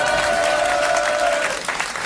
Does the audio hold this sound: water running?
no